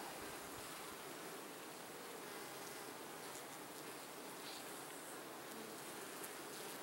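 Honey bees in an open hive during a split of a swarmed colony, a dense steady buzzing hum that fills the whole span at close range with no pauses.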